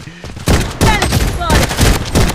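Gunfire in the video game Blood Strike, loud close bursts of automatic fire in several rapid volleys with short pauses between them.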